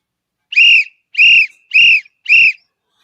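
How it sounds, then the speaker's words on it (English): A high, shrill whistle blown in four separate evenly spaced blasts, each about a quarter second long, loud and close with silence between. "let's get the whistle"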